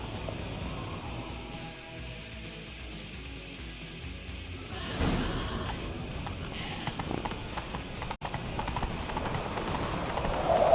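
Steady hooves clip-clop from a galloping horse in Witcher 3, a continuous rhythmic beat that grows somewhat louder partway through against a low game ambience.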